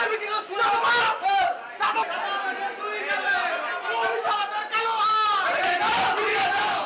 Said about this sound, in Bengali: চাঁদাবাজির বিরুদ্ধে একের পর এক স্লোগান